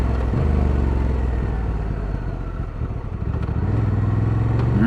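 A motorcycle's exhaust drones steadily and close while riding. The engine's low rumble holds throughout, with a slight rise in revs toward the end, and there is no talking.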